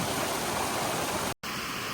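Water rushes steadily in a stream beside a mountain trail, a close, loud, continuous broadband roar with no voices, briefly cut off near the end.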